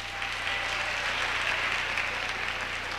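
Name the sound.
audience applause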